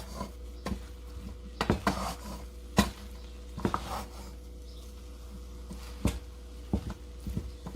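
Shrimp-pineapple fried rice being stirred in a pan, with irregular scrapes and sharp knocks of a utensil against the pan spread through the clip over a low background hum.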